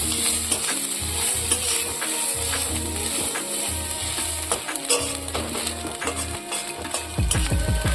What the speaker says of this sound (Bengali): আর এখানে সামান্য পরিমাণ আবার একটু তেল দিয়ে দেব। আর আমরা এখন এগুলোকে একটু কিছুক্ষণ নেড়ে চেড়ে নেব।